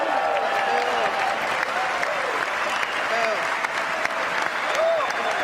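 Sustained applause from a large crowd at a State of the Union address, dense steady clapping filling the whole stretch, with scattered voices mixed in.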